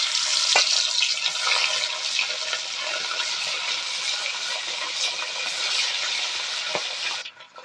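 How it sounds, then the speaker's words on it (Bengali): Salt-and-turmeric-rubbed fish pieces fry in hot oil in a pan, giving a loud, steady, dense sizzle that runs unbroken for several seconds before cutting off near the end, with no talking. "মাছগুলা ভেজে নেবো।"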